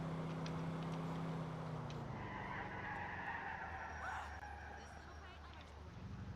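A UAZ 3170 drives in Grand Theft Auto IV, its engine droning with a gear change partway through and a faint tire squeal, the game sound moderately loud and steady.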